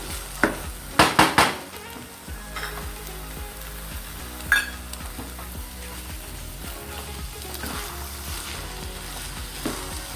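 Khoa being stirred into pumpkin halwa in a pan, with a soft continuous sizzle and scraping of a spoon against the pan, plus a few sharp clinks of utensils near the start.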